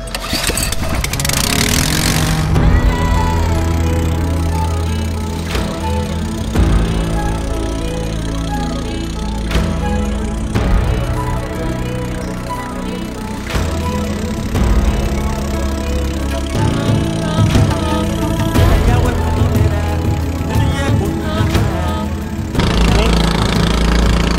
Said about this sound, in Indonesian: Mesin ketinting yang dipakai memang hemat, walau suaranya bikin paus kabur.